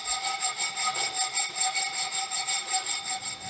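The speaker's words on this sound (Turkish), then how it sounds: "Oval saatçi eğrisiyle bıçağımızın bilek çentiğini açıyoruz." An oval needle file rasps back and forth across the wrist notch of a steel knife blank, a steady rhythmic scraping of roughly a dozen close, even strokes with no talking.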